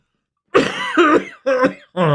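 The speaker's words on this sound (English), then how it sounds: "And I coughed all over you people" A person coughs several times in quick succession, close and loud, harsh rasping bursts separated by brief pauses.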